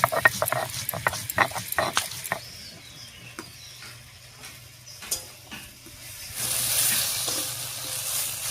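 Dheki shak greens fry in a pan, a soft continuous sizzle punctuated by irregular sharp clinks and scrapes of stirring, with a brief louder hiss of frying near the end.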